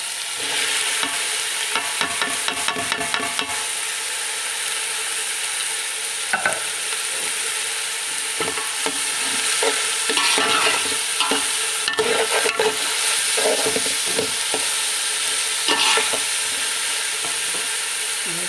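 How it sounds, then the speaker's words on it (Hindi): Chopped onion fries in a pan for vegetable pulao, a continuous loud sizzle broken by repeated scraping and clinking as a spoon stirs it, close and steady for a long stretch. "मैं इसमें ये कटा हुआ प्याज डाल रही हूँ।"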